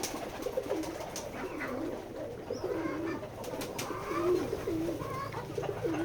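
Pigeons at a farm in Keshabpur, Jessore coo in repeated rolling, throaty phrases, fairly close and overlapping, with faint clicks and rustles in the background and no speech.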